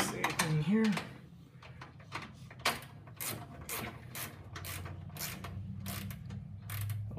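A socket ratchet wrench tightens bolts on a caster mod, making a quick run of ratcheting clicks in bursts that start and stop. There are a few close handling noises, and a voice is briefly heard at the start.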